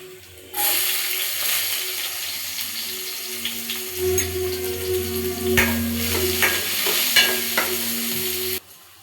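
Onion drops into hot oil and erupts into a loud, steady sizzle that holds for several seconds, with occasional pops and stirring clinks, then cuts off abruptly.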